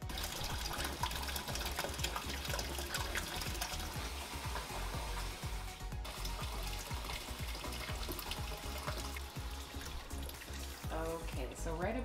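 Water churns and gushes inside a Giantex/Costway portable twin tub washing machine, a dense continuous sloshing rumble with a brief break midway and a faint tonal whine near the end.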